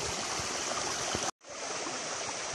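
A small forest waterfall pours steadily into a stream, a dense, continuous rush of falling water with a brief cut in the middle before the flow resumes.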